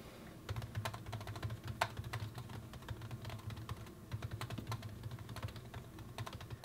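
Steady typing on a MacBook Pro keyboard fitted with a silicone cover, a quiet, dense patter of muted, soft key taps close by, continuous with no talking.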